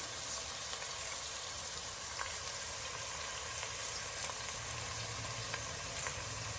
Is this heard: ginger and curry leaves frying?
yes